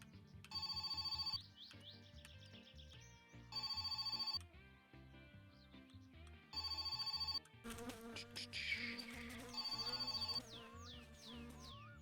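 In the video game My Summer Car, a telephone rings in repeated shrill bursts with gaps between them, over quiet game background sounds.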